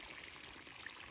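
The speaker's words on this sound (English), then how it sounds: "That little stream right there," A small mountain stream in the Smokies flows with a steady, soft broadband rush and faint trickling, continuous and unbroken, with no voices.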